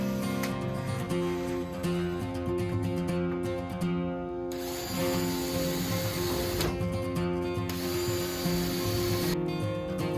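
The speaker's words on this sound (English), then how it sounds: "use stainless steel screws through the metal flange into" A power drill drives stainless steel screws through a metal flange into wooden framing while a travel trailer is being built, the motor whirring steadily and loudly across the whole stretch, with brief shifts in pitch as each screw bites.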